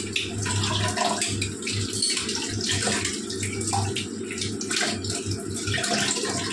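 Kitchen pots and utensils are scrubbed under running tap water, a steady splashing flow broken by rhythmic rubbing strokes and small clatters, close and alone without speech.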